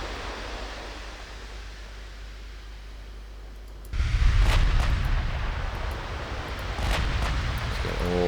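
Naval battleship gun turrets fire in Ultimate Admiral Dreadnoughts: a low rumbling bed, then a heavy booming onset of salvos with sharp cracks and sustained roar.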